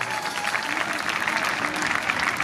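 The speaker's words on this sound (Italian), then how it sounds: "Ma facciamo un applauso al carabellista qua." Crowd applause from an outdoor festival audience in Sogliano, a dense, steady wash of clapping throughout with faint voices mixed in.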